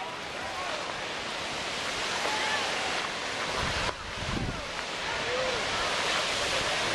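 Steady broadband rush of a river waterfall at Lava Hot Springs, a continuous roar of falling water with wind buffeting the microphone, constant and fairly close throughout.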